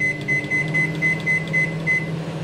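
A kitchen microwave oven is set for five and a half minutes, giving a run of short, regular electronic beeps over the steady low hum of the appliance.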